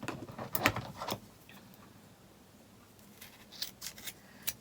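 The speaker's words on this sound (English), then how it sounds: "I find it easier to do it with a little pair of scissors because the gap's not that big" Small scissors snipping through wool wound on a pom-pom maker: a few quick, close, crisp cuts at the start and a handful more near the end, with quiet handling between.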